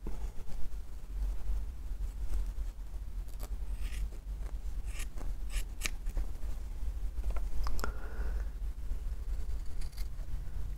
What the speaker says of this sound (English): And then take my sharp scissors, cut it out.